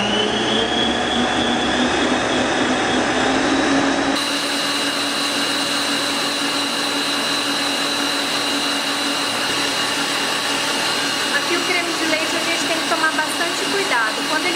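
An electric mixer whips well-chilled cream with a continuous loud whir; its pitch and tone shift after a few seconds and then hold steady to the end.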